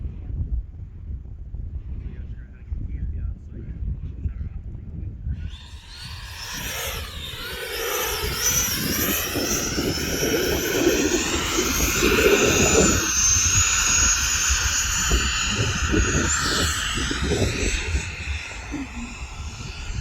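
An E-flite 80mm F-16 RC jet flies a high-alpha pass. Its ducted-fan whine swells in after a brief quiet and holds steady and fairly loud, rushing over gusty wind noise.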